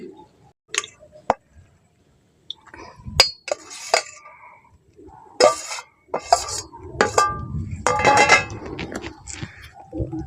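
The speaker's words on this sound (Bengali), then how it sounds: "বেসনটা দিয়ে চিনি সিরার মধ্যে ভালো করে মিশিয়ে নিতে হবে" Besan being stirred into sugar syrup in a pan for besan sandesh sweets, with a spoon scraping and clinking against the metal in irregular bursts, some soft voice nearby.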